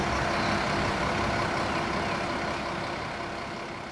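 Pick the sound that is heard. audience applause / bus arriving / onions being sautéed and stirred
bus arriving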